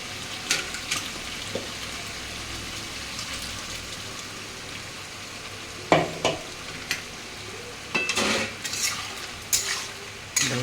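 Ginger and cumin paste frying in a pan, a steady close sizzle broken by irregular scraping and clacking stirs that grow busier toward the end.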